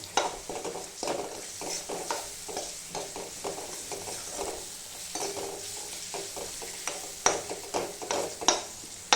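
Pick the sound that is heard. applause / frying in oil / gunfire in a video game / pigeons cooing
frying in oil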